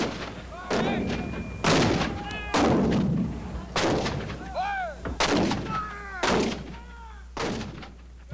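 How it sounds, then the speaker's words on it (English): Confederate field artillery, over a hundred guns along a two-mile line, opens a cannonade: a relentless series of loud booming blasts roughly every second, overlapping with rumbling echoes and distant cracks. "along the 2 miles of Confederate lines, over 130 pieces of field artillery open up"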